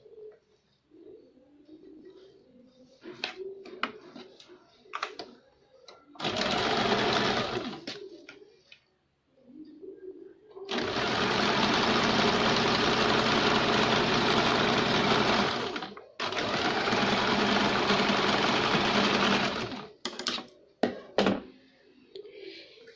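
A sewing machine stitches blouse pieces at the edges, running in two long loud bursts and one shorter earlier run, with quiet pauses between where birds coo faintly in the background.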